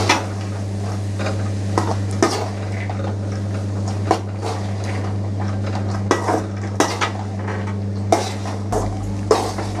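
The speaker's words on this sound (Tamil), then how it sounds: "இப்போ இந்த மசாலா இந்த பாசிப்பருப்பு கூட மிக்ஸ் ஆகிற அளவுக்கு நம்ம நல்லா மிக்ஸ் பண்ணி விட்டுக்கலாம்" A metal spoon scrapes and clinks repeatedly against a pan while masala is stirred into green gram dal for sundal, irregular close knocks over a steady low stove hum, no talking.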